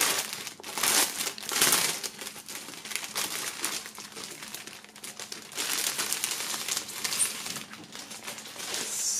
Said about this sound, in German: Wir werden das Ganze mal aus der Folie holen.